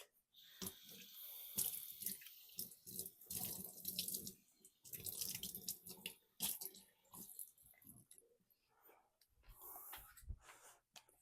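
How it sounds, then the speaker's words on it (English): Tap water running into a sink while something is rinsed under it, a close, steady splashing rush with uneven surges and brief pauses, heard alone. "Just going to rinse off this real quick."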